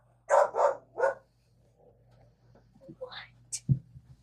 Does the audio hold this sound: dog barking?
yes